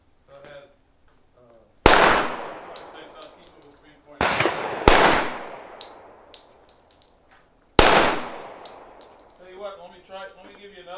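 Flintlock guns fire blank cartridges in three loud, sharp reports with ringing decay, spaced a couple of seconds apart, plus a fourth blast, with people talking faintly before and after the shots.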